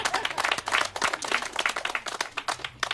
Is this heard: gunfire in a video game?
no